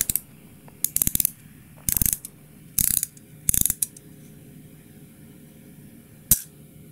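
A wooden Racer V3 model car from Veter Models has its spring motor wound with a handle, the ratchet mechanism giving four quick bursts of close, crisp clicking and then one lone click.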